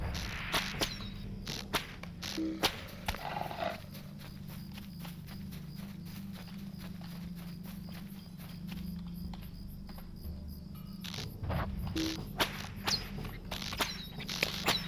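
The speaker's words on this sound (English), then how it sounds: "I love the sound of crickets." Crickets chirp steadily in the Lord of the Rings Online game world, mixed with regular clip-clopping hoofbeats from a horse moving along at a walk.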